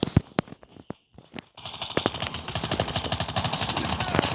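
Rapid bursts of M16 rifle fire in a Call of Duty game, with sharp separate shots at first, then a dense stream of repeated reports and footsteps under the game mix.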